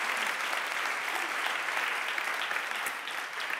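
Dense, even applause from a conference audience greets start-up founders at a circular-economy challenge event, a continuous wash of clapping at moderate volume from start to finish.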